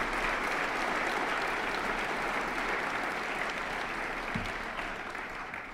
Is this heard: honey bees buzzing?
no